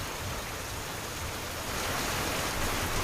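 Steady rain falls continuously after two days of downpour, a dense even hiss without distinct drops, fairly faint and unbroken, with no voices.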